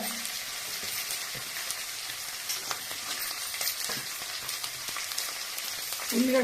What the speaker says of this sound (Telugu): చివర్లో ఉల్లిగడ్డ వేసుకొని ఇలా కలుపుకోవాలి.